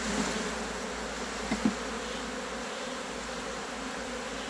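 Dense, steady drone of many honey bees swarming around an opened hive frame during a beekeeping inspection, continuous and fairly close, with a couple of brief knocks.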